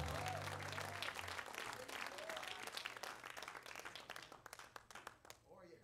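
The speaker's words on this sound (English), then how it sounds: "clap your hands if you love the Lord tonight" A church congregation at a revival service claps hands in a lively mass, with voices and low music underneath, the clapping gradually thinning into individual claps near the close.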